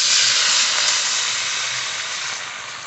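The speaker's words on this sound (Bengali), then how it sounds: "মশলা আলু খুব ভালো করে কষিয়ে নিয়েছি, এবার জল দিয়ে দেব।" Water poured into a hot pan of spiced, sizzling potatoes for a fish and potato curry sends up a loud, steady steam hiss that fades slightly over about three seconds, with no voices.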